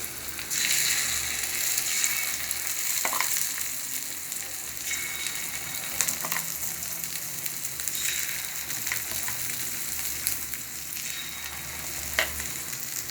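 Onion and egg white mixture sizzling in the hollows of a paniyaram pan for egg paniyaram, a steady loud crackling fry with occasional brief stir and scrape sounds, no talking.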